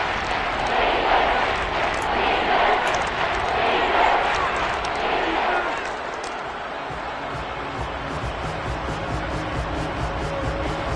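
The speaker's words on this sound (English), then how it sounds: "Crowd getting in it a bit already." A football stadium crowd roars in a broad, continuous wash behind a commentator's steady talk, loudest early on and easing somewhat partway through.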